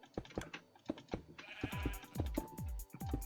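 Sheep in the Minecraft video game bleat repeatedly, a rapid series of short, clear game-sound baas, some overlapping, over a faint background hum.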